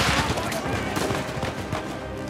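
Rapid gunfire from the video game Uncharted 4 rattles in dense bursts, loud and continuous, with a voice speaking over the shots.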